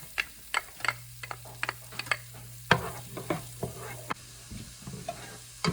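Brunoise onions soften in a hot pan with a gentle steady sizzle, broken by frequent sharp taps and scrapes of a spoon against the pan, close and without any talking.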